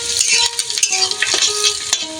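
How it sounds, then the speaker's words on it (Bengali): Sliced onions sizzle in hot oil as a spoon stirs them around a pan in a village kitchen, making a close, crackling fry broken by repeated metallic scrapes and clinks. No one speaks. "পেঁয়াজটা আমি ভেজে নিচ্ছি।"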